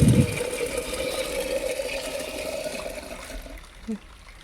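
Water flows steadily from an outdoor tap beside a solar panel, a constant rushing hiss with a low hum, thinning out toward the end, with a faint knock near the close.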